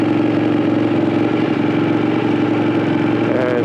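Ducati 959 Panigale motorcycle engine running steadily with a loud, even mechanical hum and throbbing pulse, close and continuous with no speech.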